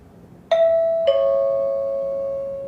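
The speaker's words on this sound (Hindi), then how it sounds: "ये वाली जो घंटी बजती है ध्यान रखना है, ये घंटी है, एग्जाम स्टार्ट हो रहा है" Two clear chime tones of a JLPT listening exam start bell struck about half a second apart, ringing out and slowly fading in an otherwise quiet room.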